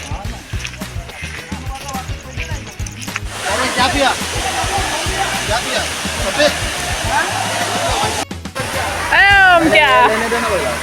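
Rain begins falling at a hidden waterfall near a river in Navi Mumbai, adding a broad, steady rushing hiss to the water's roar while several people talk over it.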